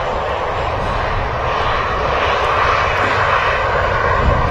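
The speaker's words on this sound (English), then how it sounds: "Also an EasyJet 320 on the taxi out as well, which is on its way to Antalya" An EasyJet Airbus A320 airliner taxis out at Manchester Airport, its jet engines giving a loud, steady, close roar that holds evenly throughout without a break.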